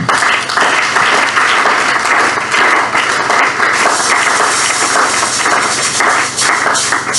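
A church congregation applauds steadily and loudly throughout, a dense continuous wash of clapping from many hands without pause.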